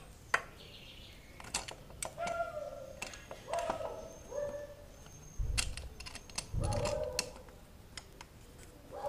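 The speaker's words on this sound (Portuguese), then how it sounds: "Aí vamos soltar com a ajuda da chave aqui." A wrench working loose a hot oil drain plug or filter during a synthetic oil change, with ratcheting clicks and creaks in short repeated pulls and a few metallic knocks, close by with no talking.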